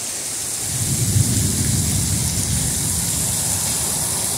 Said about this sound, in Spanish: Estamos siendo azotados por una gran tormenta.